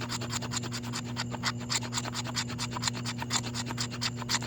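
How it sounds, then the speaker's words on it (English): A knife's back edge scrapes shavings off a stick of resinous fatwood in a steady run of close, rasping strokes, one after another, with a faint constant hum underneath. "So I'm going to take some shavings off right now."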